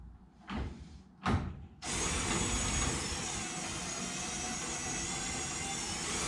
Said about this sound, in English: Just use my drill with an 18mm socket.